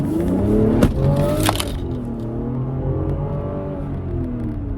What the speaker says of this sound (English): That's one of the most insane accelerations I've done in a long time.